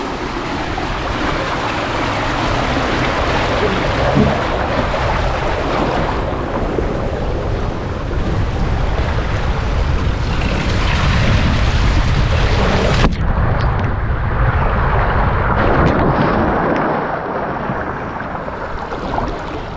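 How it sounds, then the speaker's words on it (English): Steady broadband rush of water and wind at a hotel water slide at Loews Portofino Bay Hotel, Universal Orlando, continuous and fairly loud for the whole stretch with a brief shift midway. "Just got off the water slide."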